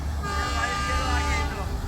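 Matheran toy train at a hill-station platform during the monsoon: a steady, fairly close horn or engine drone with rail rumble, held for about two seconds under crowd murmur.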